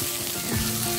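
Bitter gourd (karela) pieces frying in a small amount of oil in an open pan, giving a steady, loud, continuous sizzle with no talking.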